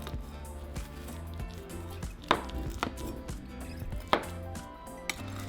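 A knife cuts through a pan of baked macaroni and cheese, giving soft squishy slices and a few light clinks against the dish, close and fairly quiet with no talking.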